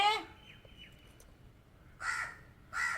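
A crow caws loudly three times outdoors: one harsh call at the start, then two more after a quiet pause.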